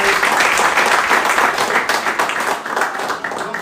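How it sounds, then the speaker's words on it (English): Sustained applause from a crowd at a football club's coaching staff presentation, dense clapping that stays loud and steady throughout. "Let's give the coach one more time a big hand again."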